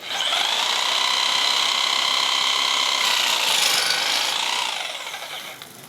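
Power saw with its blade running at full speed through wood, a loud steady rasping cut lasting several seconds before tapering off at the end, heard on its own.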